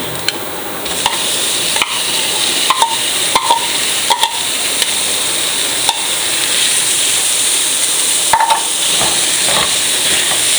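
Minced chicken frying in a pan with softened onion and garlic gives a steady loud sizzle and hiss, broken by short scraping clicks of stirring at irregular intervals.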